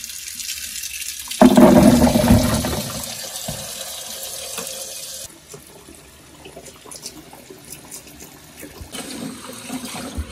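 Water gushes from a tap into a sink during washing, loud and splashing at first, then easing to a quieter steady trickle that runs on to the end.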